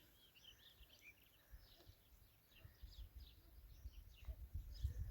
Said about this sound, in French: On entend les petits oiseaux.